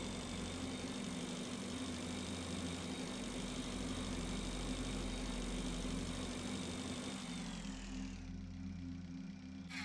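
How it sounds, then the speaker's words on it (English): Vehicle burners fire in the space survival game Breathedge, making a steady, loud engine-like drone with a low hum underneath. The sound shifts and thins near the end, and no one speaks over it. "Fires the burners!"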